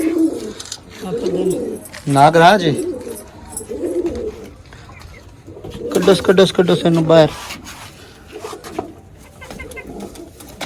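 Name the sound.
pigeon cooing inside its coop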